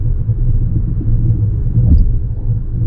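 A VinFast Fadil car's engine is floored on a highway as revs climb toward 4,000, heard from inside as a loud steady low rumble of engine and road noise with no talk.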